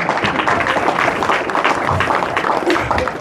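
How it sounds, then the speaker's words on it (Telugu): An audience at a devotional gathering of a Sydney youth group claps loudly and continuously, a thick wash of overlapping hand claps with faint voices mixed underneath. "అందుకని మీకు మీరే చప్పట్లు కొట్టుకోండి."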